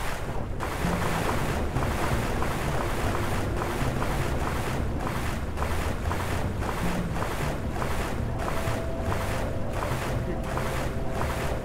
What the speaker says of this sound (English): That's some nice water sounds we got here.